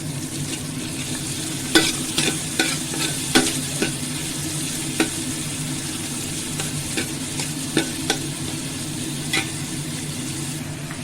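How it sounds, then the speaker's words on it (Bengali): Chopped vegetables fry in a pan for a winter vegetable pulao, with a constant sizzle under frequent sharp spatula scrapes and taps in an irregular stirring rhythm. "সবজি কেটে রাখা সবজিটা সবজিটাও ভেজে নেব ভালো করে"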